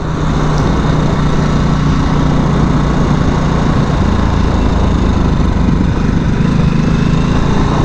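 A Harley-Davidson 2022 Nightster motorcycle engine runs on a test ride as a loud, continuous drone mixed with heavy wind rush, steady throughout without a break.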